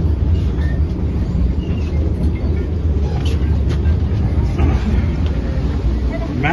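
Steady low rumble and rattle from inside a moving Vande Bharat Express passenger train, a continuous dense cabin noise with faint background chatter throughout.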